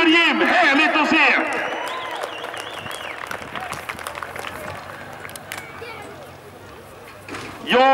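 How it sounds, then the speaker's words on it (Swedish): An outdoor crowd applauds at a rallycross event in Vimmerby while an announcer talks loudly over it, the scattered clapping carrying on beneath his voice and fading toward the end. "Ge en applåd, Jim Olofsson!"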